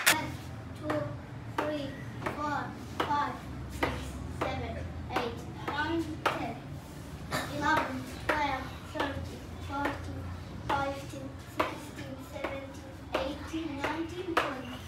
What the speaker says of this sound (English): The clap to him.